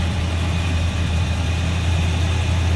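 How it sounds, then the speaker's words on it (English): A 1971 Oldsmobile Cutlass Supreme convertible's V8 idles steadily with the hood open, a smooth, even low rumble held close and constant throughout, with no voices over it. "nice and smooth this old V8 is running"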